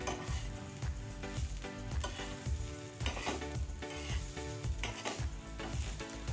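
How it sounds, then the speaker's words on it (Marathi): Fresh grated coconut roasting in a pan with fried onion, garlic and ginger, giving a steady close sizzle with scraping stir strokes and light utensil clatter, continuous with no talk. "आता मी इथे ना ह्याच्यामध्ये हे ओलं खोबरं पण भाजून घेणार आहे"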